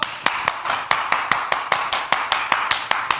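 Evenly spaced sharp claps, about five per second, close and fairly loud, like one person or a small group clapping in a steady rhythm.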